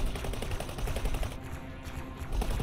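Ship weapons in the X4 space game pound an enemy vessel with rapid, continuous loud bursts that dip briefly midway before resuming, with no voices.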